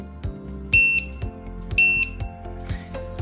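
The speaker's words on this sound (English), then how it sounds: "you should hear a double beep this time" A Moore & Wright MW198-40DPL digital height gauge gives two short, clear electronic beeps about a second apart. Mechanical clicks from the hand wheel and stylus sound around them.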